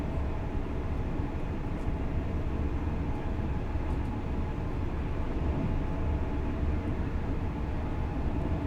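A high-speed train on the East Coast Main Line between Peterborough and Doncaster, in the game Train Sim World, gives a steady, continuous rumble and rolling drone for several seconds without speech.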